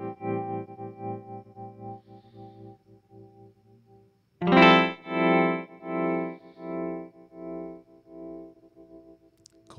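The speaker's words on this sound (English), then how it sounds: "you can hear the panning moving around quite a lot on that chord." A distorted electric guitar minor 6 chord rings out with a swirling, pulsing panning effect that swells and fades in waves, played twice with a pause between.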